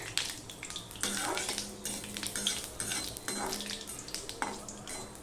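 Panch phoron spices crackle in hot oil for a gathi kochu (taro) dish, sizzling under repeated metal spoon scrapes and clinks against the pan, with occasional faint voice sounds.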